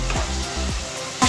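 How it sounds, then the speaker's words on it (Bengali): Spice masala for dhaba-style dal makhani sizzles in oil in a kadai, with three quick stirring scrapes cutting through the steady, close frying hiss. "এবারে আমি মশলাটাকে কষিয়ে নেব। মশলাটা কিন্তু নেড়ে যেতে হবে"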